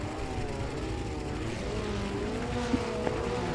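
Formula Ford race cars at a race start: engine notes rising and overlapping, a dense revving drone from several cars, steady and moderately distant.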